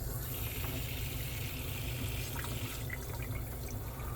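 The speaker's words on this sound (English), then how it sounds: "if I run the sink, water comes out." Water runs from a sink tap in a housing-project apartment, a steady close splashing rush with faint drips and gurgles heard throughout.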